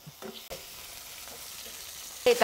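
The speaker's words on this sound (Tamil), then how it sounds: "இந்த தூதுவளை தலையை சேர்த்து நல்லா வதக்கிக்கலாங்க" Thuthuvalai leaves are sautéed in a pan with a soft, steady sizzle, with a few stirring clinks early on and a louder scrape at the end.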